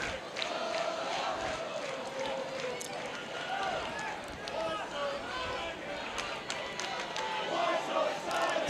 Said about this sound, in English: In case you couldn't tell, nice crowd tonight.